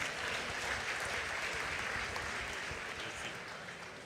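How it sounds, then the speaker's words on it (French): A congregation at a church convention in Les Cayes applauds to welcome the preacher, a steady, fairly distant wash of clapping that continues evenly and fades slightly toward the end. "On nous recevra le prédicateur avec un chaud d'applaudissements."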